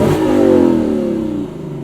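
2018 Lexus LC 500 V8 exhaust revving in normal mode, a loud burst that rises then falls away over under two seconds, heard close from inside the car with no talking.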